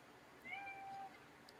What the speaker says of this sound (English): That was my cat. That was my cat.